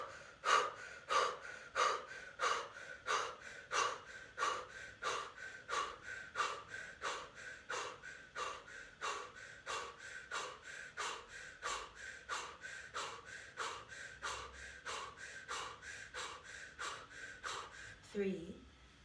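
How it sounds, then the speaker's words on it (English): Rhythmic breathing, deep inhales and exhales during a guided breathing exercise, repeating steadily about every half second to second for the whole stretch, close and clear with no words spoken. "Inhale deep. Hold the breath. And exhale complete."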